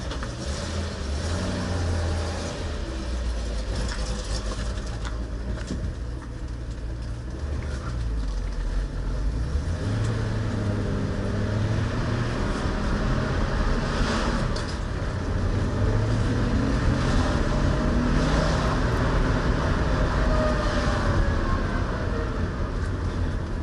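A restored 1966 Ford Mustang on a shakedown drive with the choke still on, heard from inside as a continuous loud engine and road rumble that rises and falls with speed throughout, with no talk.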